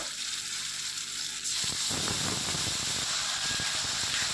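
Ginger and garlic paste hits hot oil with cumin and dried chillies in a wok, a sudden loud sizzle that bursts in midway and keeps hissing steadily with crackling spatter.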